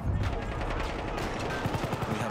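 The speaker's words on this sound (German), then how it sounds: "Aufpass, Maschinengewehr!" Rapid machine gun bursts crackle in a World War I first-person shooter game, loud, dense and continuous, with scattered gunfire and a harsh battle din filling the mix.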